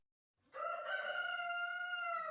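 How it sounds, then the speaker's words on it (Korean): A rooster launches into a loud, drawn-out cock-a-doodle-doo crow, clear and close with a rising then sustained tone, heard alone against silence as a story sound effect. "하필이면 거기서 닭 한 마리가 힘차게 날아올랐습니다"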